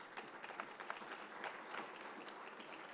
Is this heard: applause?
yes